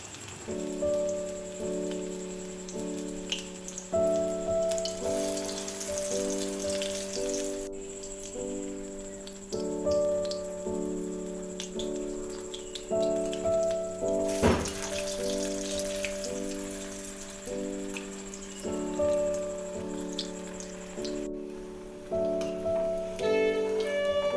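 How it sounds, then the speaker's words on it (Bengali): Onions fry in a pan during home cooking, giving a steady soft crackle and sizzle that runs throughout under loud background music with sustained tones. "তো এই যে আমি এখন এক এক করে পেঁয়াজগুলো ভেজে নিই"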